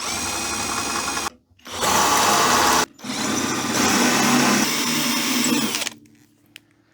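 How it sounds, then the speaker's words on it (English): Power drill boring out pop rivets on the casing of an old electric arc welder being scrapped: loud, steady whining bursts separated by two brief pauses, then winding down, with no talking. "it's actually got rivets, pop rivets. So I'm going to have to drill those out"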